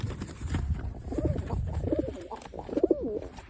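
Pigeons cooing inside a loft, soft repeated throaty coos rising and falling over a rustling, murmuring background, fairly close and moderately loud with no talk.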